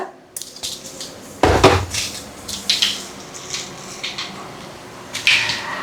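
A spoonful of mustard seeds hits hot coconut oil in a pan and splutters in irregular crackling bursts, close and fairly loud, mixed with a few clinks of a metal spoon against the pan.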